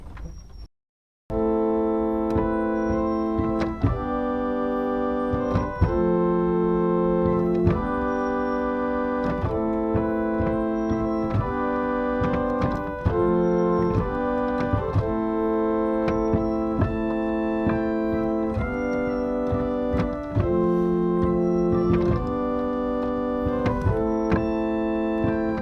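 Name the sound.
pipe organ dulciana stop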